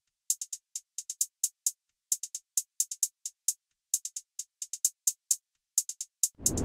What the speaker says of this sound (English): regular two-step hi-hat pattern, but I added a shaper box and I just went with the chopper preset right here